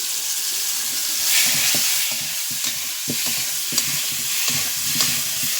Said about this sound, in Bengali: দেখো আমগুলো আমার ভাজা ভাজা হয়ে এসেছে